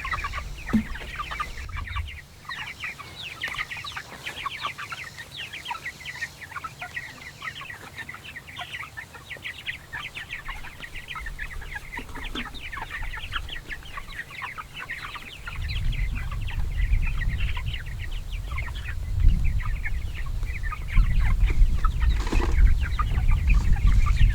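A flock of broiler chickens clucking and chirping around a Plasson drinker, a busy, continuous chorus of overlapping calls that swells louder in the second half, with no speech.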